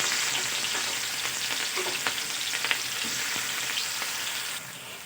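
Chopped onion sizzles in hot oil in a pan as it is stirred, a constant bright crackle with small scraping and clinking bursts from the stirring, close and alone without talk, easing slightly at the end.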